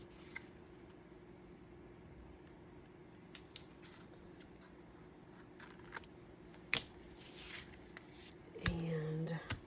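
Scissors snip through a paper tag in a quiet room, soft cutting clicks spread across the clip with a few sharper snips near the end.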